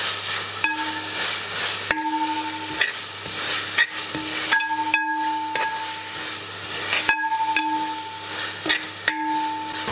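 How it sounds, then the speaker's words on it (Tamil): A utensil stirs fresh coriander into a soft tomato masala for chicken biryani, producing repeated scraping strokes against the pan over a gentle sizzle. A steady tonal hum runs underneath, and no one speaks. "இப்போ நீங்கள் ஒரு கைப்பிடி அளவு கொத்தமல்லி சேர்த்து நல்லா கிண்டி விடுங்க"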